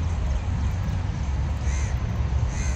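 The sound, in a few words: crows cawing near a metro station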